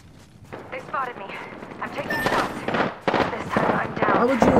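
Gunfire in the battle royale video game Apex Legends, a rising spray of shots and impacts under constant excited talk among players.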